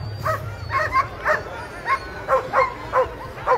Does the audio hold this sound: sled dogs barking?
yes